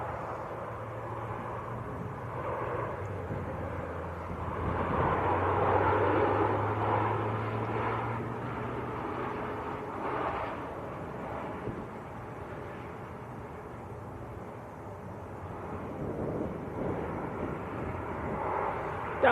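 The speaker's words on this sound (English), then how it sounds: "So here's the go around." An airplane goes around at Manchester Airport, its engine roar rising to a loud swell in the middle, then settling into a steady, fairly distant rumble, with no talk over it.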